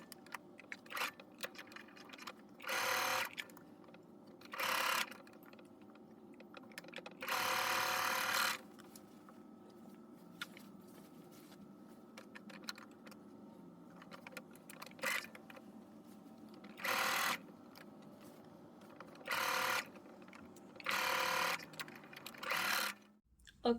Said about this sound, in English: So let's go ahead to sewing machine and start doing fitting on both sides